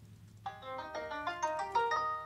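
A melodic phone ringtone plays a quick sequence of bright chiming notes, clear and alone over a faint low hum.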